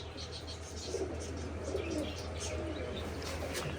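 Soft pigeon coos repeat a few times against a quiet, steady background hiss, faint and unhurried.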